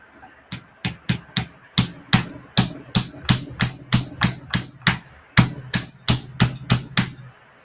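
A hammer whacks a part into place in a regular series of about twenty sharp, close blows, evenly spaced and loud, with no talk over them.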